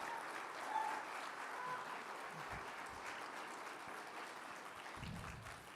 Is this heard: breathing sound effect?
no